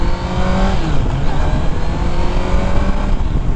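A 2021 Kawasaki Z900 ABS motorcycle accelerating on the throttle at Sonoma Raceway, a steady loud engine drone with rising harmonics, recorded close and continuous without talk.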